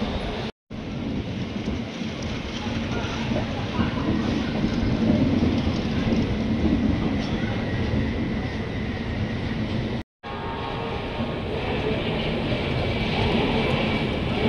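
A train pulls out of a station platform at night, a steady, loud broadband rumble of rolling wheels and wagons that fills the whole stretch with no voices, briefly cut twice.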